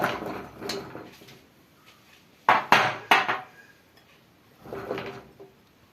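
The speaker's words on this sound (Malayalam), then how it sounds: "ബീട്രൂട്ട് നമുക്ക് കുക്കറിലേക്ക് ഇടാം." Beetroot going into a pressure cooker brings a few sharp metallic clatters and knocks of pieces hitting the pot near the middle, with softer handling noises before and after and no talking.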